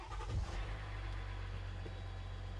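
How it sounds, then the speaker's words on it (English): A Jeep Gladiator truck's engine turns over and settles into a steady low idle, with a brief louder burst near the start and then an even rumble that continues alone and close by. "So now we're going to hop in the truck, turn it on"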